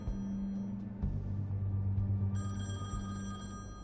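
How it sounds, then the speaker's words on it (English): An old telephone rings in The Wolf Among Us, a loud electric bell that repeats in bursts over a low background hum, with a brighter ringing tone taking over partway through. "Someone pick up that phone."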